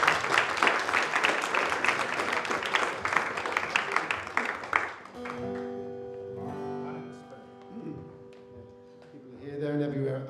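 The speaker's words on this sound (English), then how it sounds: "So let's give them a big round of applause." A church congregation at a Sunday service applauds visiting guests, a warm burst of clapping for about five seconds that fades into soft keyboard music and a voice speaking.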